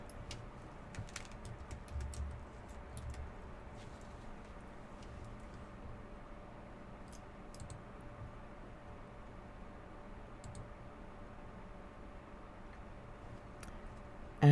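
Faint, sparse keystrokes on a computer keyboard, scattered light clicks over a steady low hum and background noise, with no voices.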